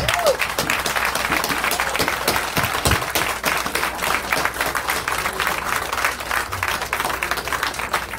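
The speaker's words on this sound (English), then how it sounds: "we all stand up and give ourselves a hand clap in acknowledgement of the good work all of us have done" An audience at a program in Liberia, Africa, claps together in a dense, steady round of applause that carries on loud and unbroken throughout.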